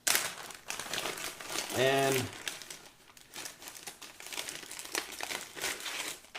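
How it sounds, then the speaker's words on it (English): Crinkling of a thin plastic bag holding May Mikes drum microphone mounting parts, close and rustly, running beneath a man's speech with a brief low hum near the start. "everything comes in this little plastic bag"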